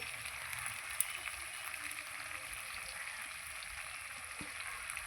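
Ground paste of cumin, ginger and green chilli sizzles in a frying pan after vegetables have been fried, a faint, steady hiss that continues evenly throughout.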